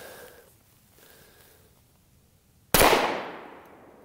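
A single Glock 19 pistol shot firing 9mm 115 grain ball ammunition over a chronograph: one sharp, loud report after a quiet pause, with a decaying tail trailing off for about a second.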